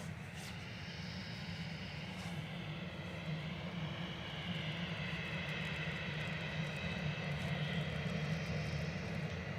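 A Ryanair airliner arriving from Alicante at Manchester Airport, its engines a steady, broad roar that holds for the whole stretch and swells slightly louder toward the end, with no voices over it.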